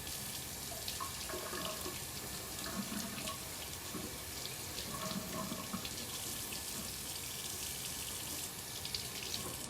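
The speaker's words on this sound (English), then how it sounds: "I'm gonna run it under some water and see if I can get it open." Tap water runs steadily over a glass jar in a kitchen to loosen a stuck lid, a continuous close splashing hiss lasting the whole stretch with no talk.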